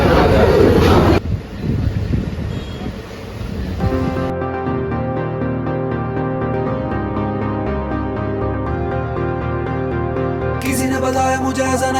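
A train on the Kanyakumari–Nagercoil route in Tamil Nadu: a rough rushing rumble gives way to a steady, layered mechanical drone that carries on continuously and loudly to the end.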